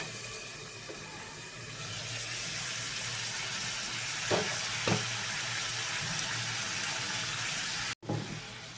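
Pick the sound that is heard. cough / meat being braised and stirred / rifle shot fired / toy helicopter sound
meat being braised and stirred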